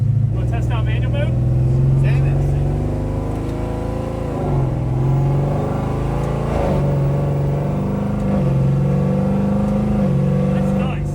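A 1959 Ford truck fitted with a Coyote V8 (about 400 horsepower) revs and pulls hard from inside the cab, its engine droning loudly and rising in pitch through several gear changes.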